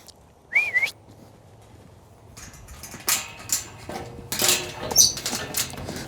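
A person gives a short rising, warbling whistle to call a Frisian mare named Black Betty outdoors, followed by faint clinks, rustles and scattered clatter in the background.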